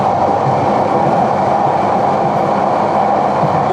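Inside a moving train carriage on the way to Cox's Bazar, a loud, steady roar of wheels and rail noise fills the air with a faint rhythmic rattle, and no one speaks.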